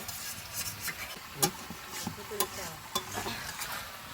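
Chicken curry being stir-fried into a thick kosha in a pan, with a faint steady sizzle broken by a few sharp scraping knocks of the spatula against the pan.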